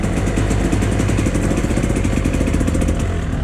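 A two-stroke motorcycle engine running rich and loading up in a smoky garage, close and loud, with a steady rapid pulsing idle that sounds rough and labored as if about to stall.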